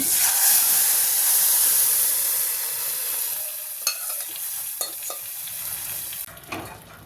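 A hot tempering of garlic and asafoetida tipped into dal, giving a loud hissing sizzle that slowly fades, with a few clinks of a spoon stirring the pot, up close.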